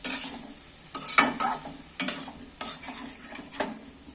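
A spice mixture is stirred in a hot pan with a utensil, giving repeated scraping strokes roughly every second over a soft background sizzle, close and clear.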